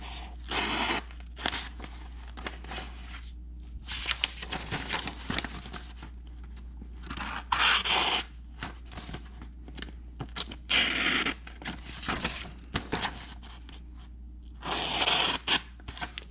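A Benchmade Bugout 535bk-4 folding knife slices through paper in several bursts of crisp, rustling cuts with short pauses between, close up against a steady low hum.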